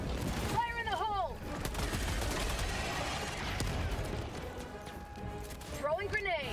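Combat in the video game Helldivers 2 brings a grenade throw and dense, continuous gunfire. Voices are heard over the din near the start and end.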